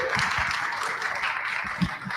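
Audience applause for presenters at the XPO Canna cannabis cultivation event, a steady wash of many hands clapping that runs unbroken and fairly loud through the whole stretch, with no talk on top.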